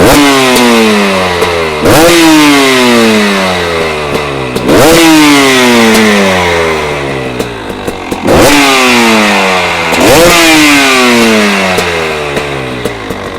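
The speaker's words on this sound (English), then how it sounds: "We'll give it a proper rev now." A warmed-up motorcycle engine sits close and loud, revved hard four times in rising sweeps that each fall back to a lumpy idle between blips.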